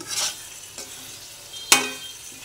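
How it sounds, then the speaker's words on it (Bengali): Rice and potatoes fry in a pan with a soft continuous sizzle, punctuated by a couple of sharp scraping stirs, one especially loud near the end. "এটাকে আমি ভালো করে ভেজে নিব"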